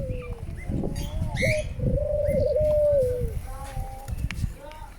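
Birds, including partridges, call and coo nearby, with a sustained warbling note standing out over a low, rumbling background and occasional chirps.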